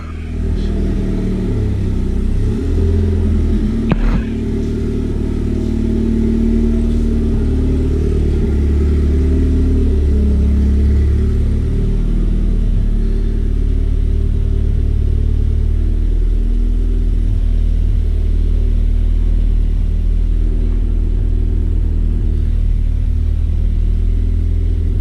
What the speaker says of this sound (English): we're about to go take the car out for a rip.